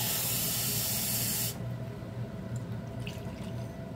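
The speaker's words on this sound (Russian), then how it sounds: "И воды добавлю. Прямо из-под крана все равно это будет." Tap water runs into a cooking pot in a home kitchen, a loud steady hissing spray that cuts off abruptly partway through, leaving quieter dripping and small clinks afterward.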